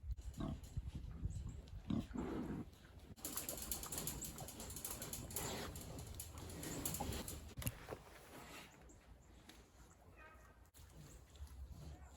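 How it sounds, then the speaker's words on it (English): Pigs on a winter pasture at Polyface Farm grunt and snort close up, with rattling and clanking noises mixed in throughout. "Let me sneak down here and see if I can't get you up close with some of these pigs."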